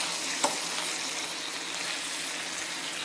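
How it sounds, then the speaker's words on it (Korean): Meat and vegetables stir-frying in a special ceramic pan give off a steady, soft sizzle with a faint clink near the start, continuous and close, with no talking. "이래서 볶아주시면 볶으면서 드세요"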